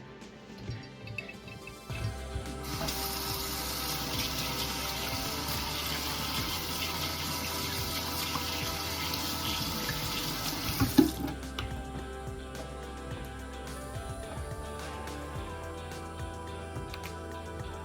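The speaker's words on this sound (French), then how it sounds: "Je vais maintenant laver mes mains une autre fois" Tap water runs into a sink while hands are washed, a steady close splashing rush lasting several seconds before the flow cuts off, leaving a quiet room without voices.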